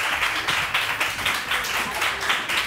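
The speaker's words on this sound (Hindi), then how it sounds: "इसी तरह से तालियां बजाते रहिए" Studio audience on a Pakistani morning TV show claps steadily for about three seconds, a dense continuous patter of many hands swelling in soft rhythmic waves with no voices over it.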